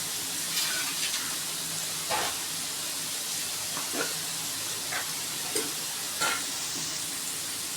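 Soy chunks sizzle steadily in a hot pan, with a few soft scraping stirs cutting through the constant frying hiss.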